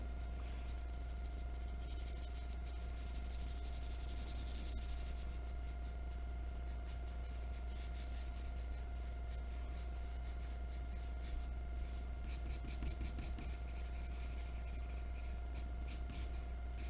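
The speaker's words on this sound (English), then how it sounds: "I'm holding my pencil a little sideways so y'all can see this a little better" Graphite pencil shading on paper with the pencil held sideways, a steady close scratchy rasp of consistent diagonal strokes continuing throughout, with no voices.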